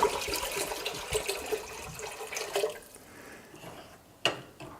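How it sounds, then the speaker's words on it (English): Tangerine juice pours into a pot in a steady gurgling stream for a few seconds, then thins to scattered drips and one sharp splash, heard close with no voices. "And the remainder we can go ahead and pour in a pot."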